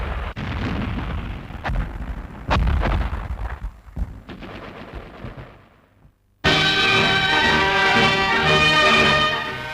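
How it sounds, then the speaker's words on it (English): Heavy bombing explosions from World War II RAF Bomber Command footage, a series of loud booming blasts and thuds at irregular intervals, followed after a brief lull by a dense, roaring burst of sound. "Heavy bombing was now accurate enough to be used tactically in direct support of the Allied advance."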